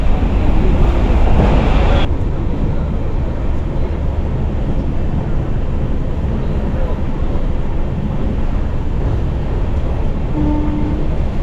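Loud, steady rumble of the Nagercoil Express rolling into platform two at Chiplun station before dawn, close by, a heavy continuous roar with a brief tonal hum near the end.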